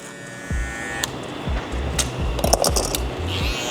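Brand-new BaByliss Rose Gold FX One hair clippers cutting hair during a haircut, a steady close electric buzz broken by repeated low thumping pulses as the blades pass through the hair.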